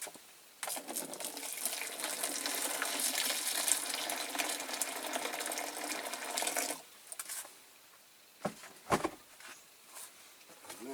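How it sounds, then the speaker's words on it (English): Boiling water from a kettle poured into a container for caustic in a tractor restoration workshop, a steady splashing gush lasting about six seconds, then a few clinks and knocks. "Okay, boiling water in."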